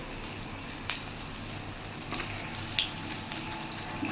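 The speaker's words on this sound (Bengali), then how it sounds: "লাল লাল করে ভেজে নেবো। আস্তে আস্তে কম আঁচে ভাজবো।" Plantain and potato kofta frying slowly in a pan over low heat, a soft steady bubbling sizzle with occasional faint pops and crackles, quiet and close.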